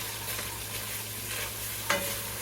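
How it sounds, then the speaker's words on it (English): Vegetables frying in a pan while being stirred. A steady sizzle is heard up close, with soft scraping stir strokes and one brief sharper clink near the end, and no talk. "Give this a stir."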